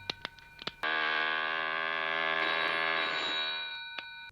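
A telephone rings with a single long, steady electronic bell tone, close and loud, preceded by a few sharp ticks and then fading out, with no talk.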